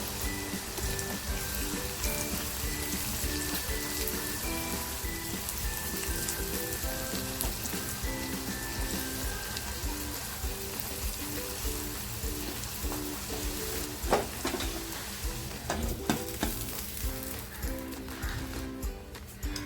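Homemade red masala frying with cluster beans in a pan gives a loud, continuous sizzle and crackle throughout, with a few sharper pops and spatters toward the end.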